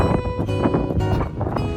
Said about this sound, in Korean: 왠지 바람 소리가 예사롭지 않네요